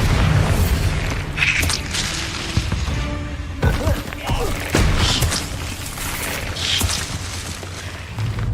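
A Bombarda spell blasts in the Hogwarts Legacy video game, with deep booming explosions and crashing combat effects layered over continuous game noise and voices.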